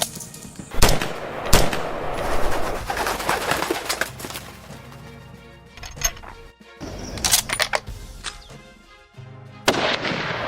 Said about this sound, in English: Shoot again, behind the shoulder.